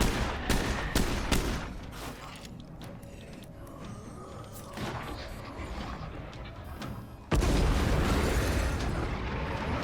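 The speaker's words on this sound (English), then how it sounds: "I'll do a little bit of extra damage with my gun first" Gunfire and heavy bursts in State of Decay 2 come as a dense run of sharp shots over a rumbling mix, easing in the middle before a loud surge of blasts near the end.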